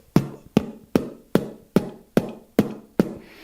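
A voice imitates a bass drum with the lips, giving eight punchy, evenly spaced low thumps in a steady beat, close and dry.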